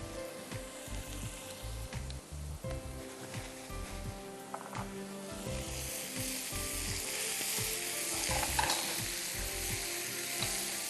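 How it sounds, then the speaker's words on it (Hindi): Fish deep frying in cooking oil, a soft bubbling sizzle that builds and grows brighter partway through, mixed with clicking, rattling utensil or mechanical sounds, fairly faint and close. "चलिए अब इसको हमें डीप फ्राई कर देना है फ़िश को"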